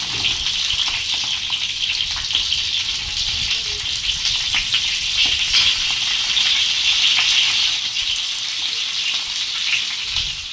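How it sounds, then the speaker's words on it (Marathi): Stuffed green chillies shallow frying in oil, giving a steady, dense sizzle that stays close and even throughout without a break, with no voices over it. "आपण आता याला शालो फ्राय करून घेऊया"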